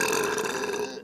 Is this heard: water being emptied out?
no